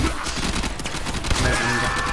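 Rapid bursts of gunfire from the sci-fi shooter Warframe crackle continuously at close range, loud and dense with little pause.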